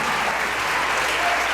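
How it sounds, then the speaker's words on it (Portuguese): A church congregation applauds in praise, a brief, dense and loud wall of clapping from many hands, steady from start to finish with no pauses. "Aplauda o nome dele, meu Deus"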